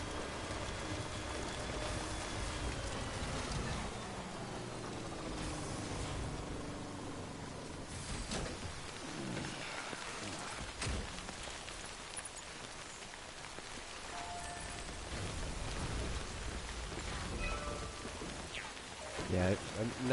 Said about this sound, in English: Heavy rain is rough though on the terrain.